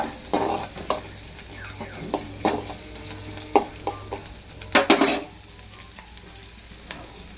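Onions browning in hot oil in a pan before liver is added for a liver fry, a low sizzle under repeated clinking and scraping stirs of a utensil against the pan, close, fading to a quieter sizzle near the end.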